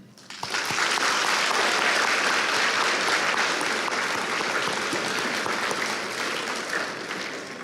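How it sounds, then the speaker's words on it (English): Sustained applause from an audience at a middle school eighth grade promotion ceremony, honoring the students' parents; dense, steady clapping swells quickly after a brief quiet start and holds loud and even throughout. "Students, join me in applauding your parents"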